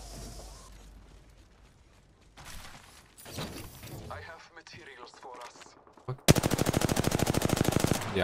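Rapid automatic gunfire from the Apex Legends video game erupts loud and sustained near the end, preceded by quieter scattered shots, clanks and game effects, with a little talk mixed in.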